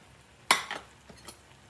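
Eggplant is dropped into a pan of adobo, a sudden clattering splash and brief sizzle followed by a few softer clinks of a utensil against the pan.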